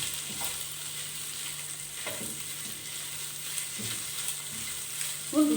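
Broccoli and cauliflower fry in a pan with a continuous close sizzle, broken every couple of seconds by a stirring scrape and a sharper clatter at the end; no one speaks.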